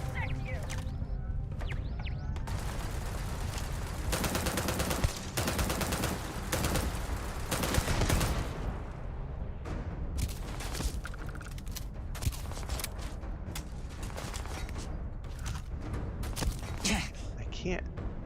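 Heavy automatic fire from a turret fight in the Starfield video game comes as dense, sustained bursts that run almost without a break over loud combat noise. People talk over it.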